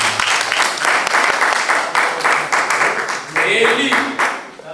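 A church congregation applauds in rhythmic, loud clapping, with voices calling out over the claps as the applause swells and continues.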